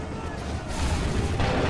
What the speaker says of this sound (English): Make ready. Open fire.